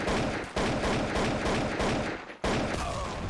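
Counter-Strike: Source match with dense, loud bursts of rapid gunfire and booming grenade-like blasts, a brief lull near the end before firing resumes.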